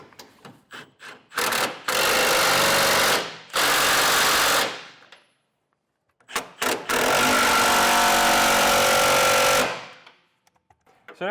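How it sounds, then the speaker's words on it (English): Power impact tool driving hitch plate bolts with a 15/16 socket into the frame of a 2015 Chevrolet truck during a gooseneck hitch install, heard as two loud sustained bursts of whirring and hammering with short taps between them. "now we can tighten the plate to our frame with our 15/16 socket"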